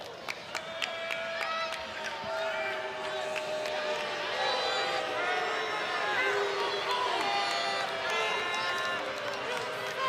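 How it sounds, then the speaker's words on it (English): An arena crowd at a Wyoming vs Oregon State college wrestling dual meet roars and shouts in protest at the referees, a dense, sustained wall of voices with a commentator talking over it. "And the crowd all over the referees"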